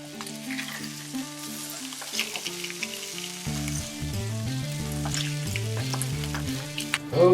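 A salmon fillet fries skin-side down in a Pantelligent smart pan to crisp the skin, a continuous soft sizzle running beneath prominent background music that swells near the end.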